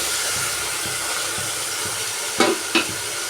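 Tamarind juice stirred into sambar simmering in a pan gives a steady, soft hiss and bubbling, with two brief louder clatters of stirring near the end.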